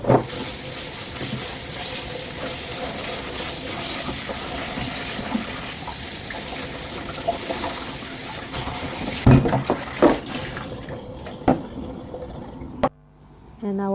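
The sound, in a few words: water running while washing lettuce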